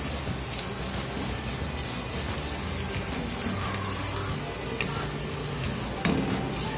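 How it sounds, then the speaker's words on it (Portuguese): Bacon fat and cooked white beans sizzle in a pan as they brown, a continuous dense crackle with occasional stirring clinks, close and steady with no talking. "Deixa eu dourar aqui."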